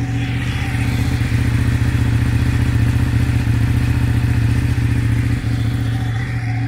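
A Ducati Panigale 899 motorcycle engine idles loudly nearby with a steady, deep, lumpy throb and mechanical clatter, no voices.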